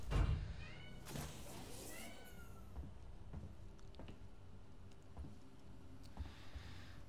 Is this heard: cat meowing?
yes